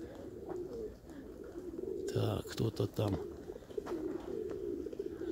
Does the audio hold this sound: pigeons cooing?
yes